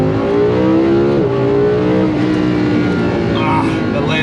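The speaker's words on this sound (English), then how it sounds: "let's do a few little baby revs in this thing" A Lamborghini engine blips through a few short, loud revs close by, its throaty note rising and falling with crackles, under a steady engine drone.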